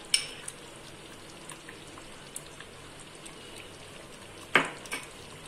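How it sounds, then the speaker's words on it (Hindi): Fresh cream is stirred into palak paneer in a quiet pan, with a faint bubbling simmer, a few light clinks and one sharper spoon knock near the end. "अब हम इसमें 1 टेबलस्पून फ्रेश क्रीम मिला लेंगे।"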